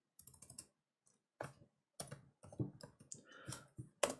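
Computer keyboard typing code in a programming session: bursts of close, crisp key clicks in short clusters separated by brief pauses.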